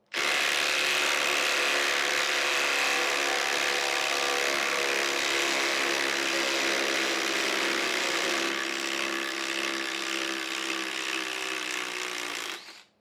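Two cordless impact drivers, a DeWalt on a PowerStack battery and a Milwaukee on a High Output battery, drive lag screws into wood. They give a loud, continuous rattling whine for about twelve seconds, then stop abruptly.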